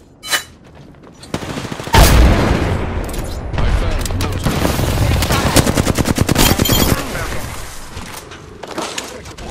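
Dense gunfire and explosions from the video game Apex Legends: rapid automatic bursts and sharp shots pile up over several seconds after a short thud, loud and close, with brief in-game voice lines.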